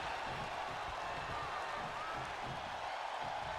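Virtual arena crowd in WWE 2K22 cage match cheering steadily, a dense continuous roar of voices with no individual words standing out.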